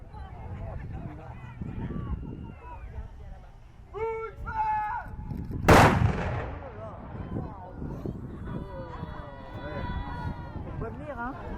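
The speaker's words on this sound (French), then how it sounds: "You have 6 cannons, these little cannons, but they are going together." Six small cannons are fired almost together at a medieval castle show in Sully. They make one loud, sharp burst of blasts that stands out amid crowd chatter and a guide speaking nearby.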